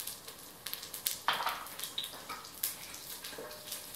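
Cumin seeds and chili flakes crackle and spit in hot coconut oil in a pan, a dense, close, continuous sizzle with sharp popping bursts throughout.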